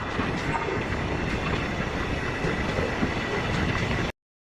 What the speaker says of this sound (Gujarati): કેશોદથી ટ્રેન નીકળી ગઈ છે એકદમ રાઈટ ટાઈમે